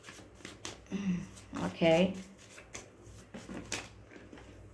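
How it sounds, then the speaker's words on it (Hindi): Playing cards shuffled by hand during a tarot-style love reading, giving short rustling and riffling bursts mixed with someone speaking over them. "First let me shuffle them very well."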